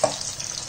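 Green chili bajji sizzle and crackle as they fry in hot oil, a short, steady, close frying hiss with no talking.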